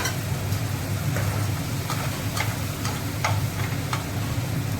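Ground mustard paste frying in a covered pan for a hilsa fish dish gives a steady, close sizzle with faint crackling ticks, and no voices.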